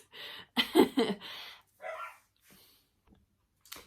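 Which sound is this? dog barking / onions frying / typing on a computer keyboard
dog barking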